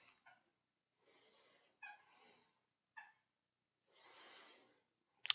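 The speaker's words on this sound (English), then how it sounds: "I'm sure you can hear my dog, though. She is having a good old time." A pet dog plays nearby, making faint panting breaths, snuffles and soft whimpers in scattered bursts, ending with a short sharp yip.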